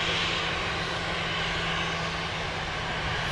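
A United Airlines jet departing Sydney Airport produces a loud, steady engine roar heard from the ground, a continuous drone with no talking.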